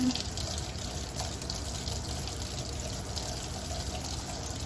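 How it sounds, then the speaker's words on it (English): A makeup brush is rinsed under running tap water: a steady, loud, continuous rush of faucet flow splashing into a sink, unbroken for the whole stretch. "Rinsing it under the water."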